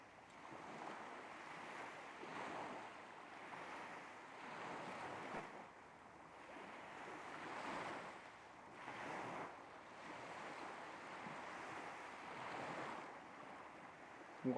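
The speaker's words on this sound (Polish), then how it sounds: "Ocean jest miękki, a jasne i delikatne fale marszczą się na jego powierzchni." Soft ocean waves wash steadily in a quiet, continuous surge with faint wind, distant and gentle, with no voices.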